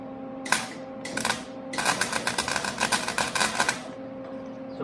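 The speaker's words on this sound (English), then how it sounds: "I'm going to turn the wire speed up so it's way too fast, and you should be able to tell right away" MIG welder with the wire speed set far too fast, stuttering on a bolt with harsh rapid crackling bursts that start and stop, then a longer sputtering run.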